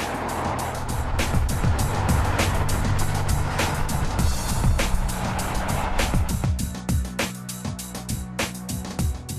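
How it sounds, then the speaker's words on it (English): A BMW 5 Series with a 225 kW twin-turbo engine drives past at speed, its engine roar loud and steady throughout with a broad rumble, easing slightly toward the end. "the car rockets up to 100 kilometers an hour in just under 6 seconds"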